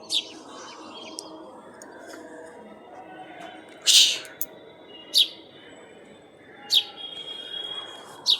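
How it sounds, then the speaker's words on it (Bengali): A bird calling near a home, several short bright chirps spaced a second or two apart over a quiet background, fairly close and clear. "পাখিটা ডাকছে, দেখুন না।"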